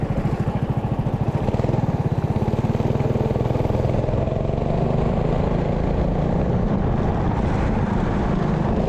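Rental go-kart with a Predator 420cc engine spinning its tires, a loud, steady close-up engine drone with rapid pulsing throughout, no talking.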